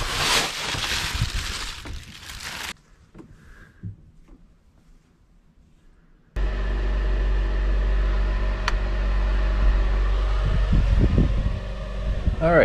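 An electric heater and an air conditioner run on cords beside a 1973 GMC C2500 pickup being given a coolant flush. After a few quieter seconds of mixed noise, a loud, steady mechanical hum with a fan-like whir starts abruptly and holds.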